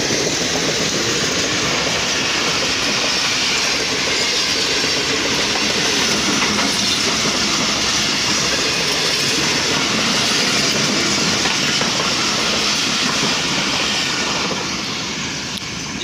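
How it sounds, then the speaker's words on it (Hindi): The Tezgam Express, a train running between Rawalpindi and Karachi via Lahore, passes at speed near Lahore in a loud, sustained roar of rushing wheels and clattering wagons that fades slightly at the end, with no speech. "ये बहुत ही स्पीडी पास तेजगाम एक्सप्रेस का"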